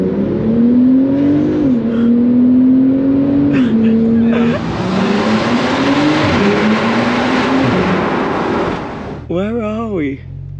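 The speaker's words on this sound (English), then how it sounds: "We're going to get manual to test the launch control in the Turbo S." A Porsche Turbo S sports car in Sport Plus mode launches hard, its engine note climbing through several gears in a loud rising whine, with talk over the end.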